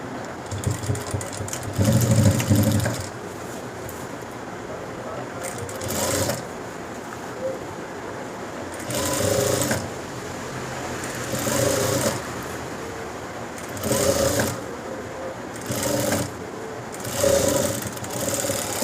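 A sewing machine stitches the seams of a school uniform coat in repeated short runs, each a loud, steady motor whir lasting a second or two, separated by quieter pauses filled with faint handling and background noise.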